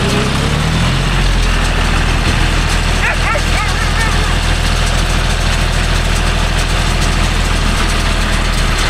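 A John Deere 5105 tractor engine runs steadily at close range during groundnut baling work, a continuous mid-pitched chugging drone with faint background voices and a brief higher sound partway through.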